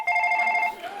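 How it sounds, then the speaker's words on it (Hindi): A phone rings once with a single bright electronic trill, close and clear, ending with a faint tail. "ग्राहक के फोन भी आने शुरू हो गए हैं।"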